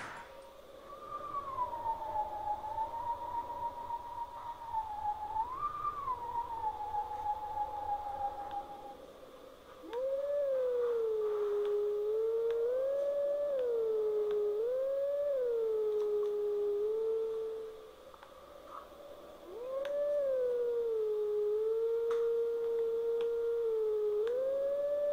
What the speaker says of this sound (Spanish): Ah, una piedra del aullido.